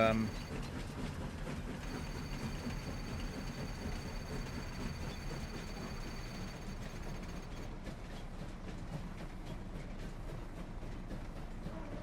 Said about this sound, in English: This is actually the first time I've used the train on Kinlaig Valley